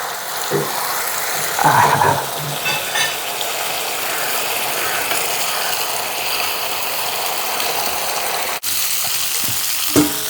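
Duck masala sizzling and frying in a pan, with occasional scraping and turning strokes of a ladle, steady close sizzle throughout and no talk.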